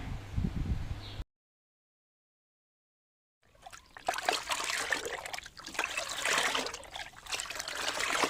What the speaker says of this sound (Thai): ก็เทใส่ลงไปเลยค่ะ น้ำซาวข้าวนะคะ